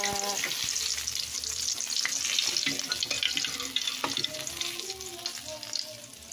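Dalagang bukid fish fries in hot oil for an evening meal, a steady bright sizzle and crackle close by, loud and continuous with small pops scattered throughout.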